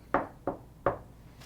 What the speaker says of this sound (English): I'll give it one more knock.